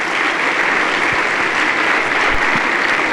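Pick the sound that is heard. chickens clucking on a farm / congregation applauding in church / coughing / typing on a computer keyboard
congregation applauding in church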